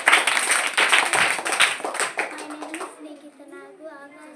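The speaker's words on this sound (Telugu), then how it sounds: "వెంకటేశ్వర స్వామి కనిపించారు క్లాప్స్ క్లాప్స్ క్లాప్స్ క్లాప్స్" A burst of rapid, loud hand clapping from a group of children in a meditation class fills the first few seconds, then fades as children's voices chatter and call out.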